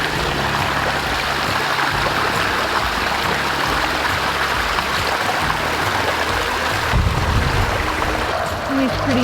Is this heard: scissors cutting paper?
no